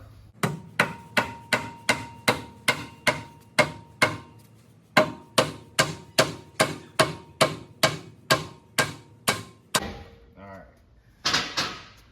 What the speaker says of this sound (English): Then we're gonna use our handy dead blow hammer.